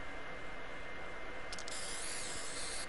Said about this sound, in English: I'll spray it on her.